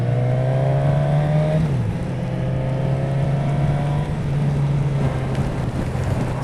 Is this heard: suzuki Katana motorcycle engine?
yes